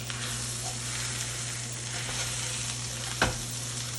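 NY strip steak searing in a cast iron pan, a steady close sizzle and crackle of fat holding level throughout, with one brief sharp clink near the end.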